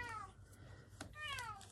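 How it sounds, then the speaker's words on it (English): A cat meows by a door, two drawn-out, descending meows separated by a short pause, faint and somewhat distant in a quiet room. "And he stood by the door meowing."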